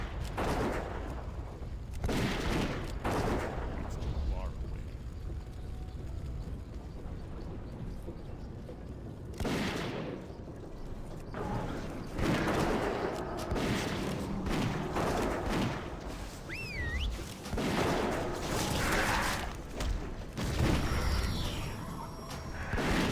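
Bursts of gunfire from a strafing run in World of Warcraft: Mists of Pandaria Classic, repeated volleys and blasts layered over busy game effects, loud and dense throughout with brief lulls between barrages.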